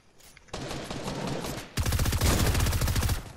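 Fortnite gunfire, rapid automatic shots in a sustained stream that grows louder and heavier partway through, close and continuous with no talk.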